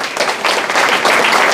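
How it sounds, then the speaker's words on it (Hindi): An audience claps at a marketing seminar in Malda, West Bengal, the applause rising to a steady, dense patter through the short moment with no talk over it. "अब आपने इस बात पे ताली क्यों बजाई है तो मुझे नहीं पता"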